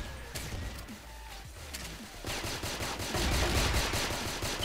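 Rapid automatic gunfire in the online shooter game Truy Kich, a dense stream of fast shots that grows louder and more continuous toward the end.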